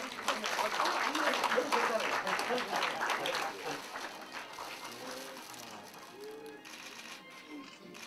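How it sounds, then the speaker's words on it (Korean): A crowd applauds at a Korean education council's anniversary award ceremony. The dense clapping is loud at first and gradually thins and fades, with an announcer's voice faintly over the later part. "많은 박수로 축하해 주시기 바랍니다."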